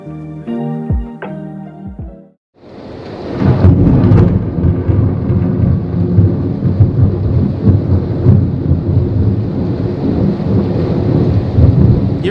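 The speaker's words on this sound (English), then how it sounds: "Anyone else get the crazy thunder?" Loud, sustained thunder roars through a storm, a deep rumbling wall of sound with rain beneath it, rising abruptly after a quiet moment and continuing heavily without letup.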